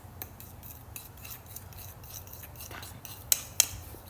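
Slime being stirred and mixed by hand, giving faint, continuous rubbing and scraping textures with a couple of sharper clicks near the end, close and quiet with no voices.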